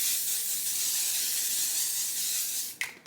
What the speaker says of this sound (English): the L'Oreal setting spray